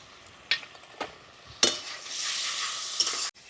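Spice masala of tomato, ginger, dried chilli, turmeric and Kashmiri chilli powder being stir-fried in a pan, a few scraping stirs followed by a bright sustained sizzle that cuts off abruptly near the end.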